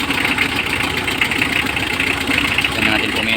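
A car engine idles steadily after a jump start on an old battery, a continuous close rumble with a faint hum, loud throughout.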